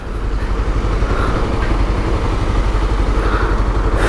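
Honda CB 300 motorcycle engine running, a loud, steady, close-up rhythmic thrum with dense low pulsing throughout and no talk.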